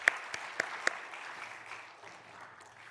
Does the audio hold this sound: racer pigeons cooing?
no